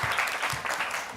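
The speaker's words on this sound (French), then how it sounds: "On va les applaudir." Audience at a televised Allahou Akbar holiday show finale applauding, a brief burst of many hands clapping close and fairly loud.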